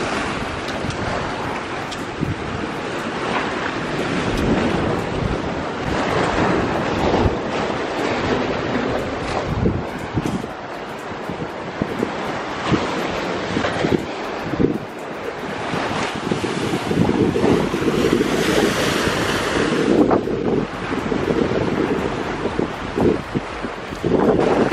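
Ocean surf breaks and washes over rocks and coral at Praia de Canajure in Florianópolis, a continuous rolling roar with surges, heavy wind buffeting the microphone throughout and no talking.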